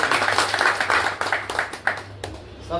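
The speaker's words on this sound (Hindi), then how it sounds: "ताली होनी चाहिए मैडम के लिए जोरदार।" A crowd claps for a woman at a business meeting, a burst of fairly loud, dense applause that fades out after about two seconds.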